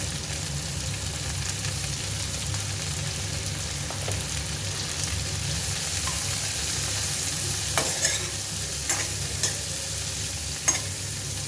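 Ivy gourd (kovakkai) fries in a pan with turmeric powder, a continuous close sizzle over a low hum, with occasional spoon scrapes and clinks against the pan toward the end.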